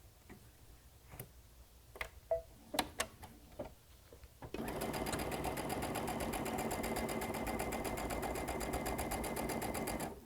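A sewing machine stitching along fabric edges for a faux border: a few scattered clicks and taps first, then a steady, fast, even mechanical rattle of stitching that runs close and continuous to the end.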